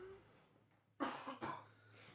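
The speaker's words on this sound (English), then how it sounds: "I'm trying so hard not to cough directly into the microphone." A person coughs close to a microphone in a quiet room, two sharp bursts in quick succession after a short hush, with a faint throaty tail. No words are spoken.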